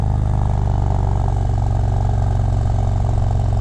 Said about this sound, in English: I don't know if you can hear the exhaust, but this thing is super duper loud.